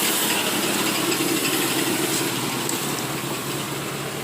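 Chevette car engine fitted with a motorcycle carburetor idles steadily, a close, rough mechanical rumble with light rattling and no talk.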